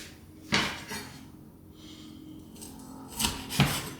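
A knife chops a chicken wing in half on a cutting board, a few sharp thuds with quiet pauses between, close by.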